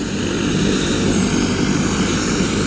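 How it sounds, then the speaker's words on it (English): Rescue helicopter with rotors kept turning for a hot load at a hang glider wreck site, a loud continuous engine and rotor roar that holds steady throughout, close by, with no talk. "Looks like we're going to keep the rotors hot, which is going to be called a hot load."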